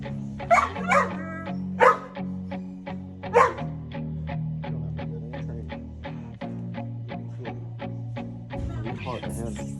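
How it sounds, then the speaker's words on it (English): Young pup barking and whimpering in repeated short yips and whines close by, with a person talking over it at moments. "Look at this dog."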